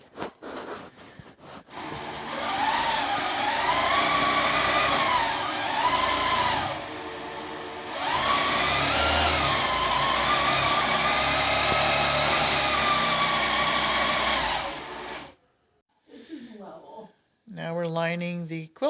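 A long arm quilting machine stitching through a quilt top and batting, giving a loud sustained motor whine whose pitch rises and falls with speed. It runs for about thirteen seconds before stopping, and voices follow.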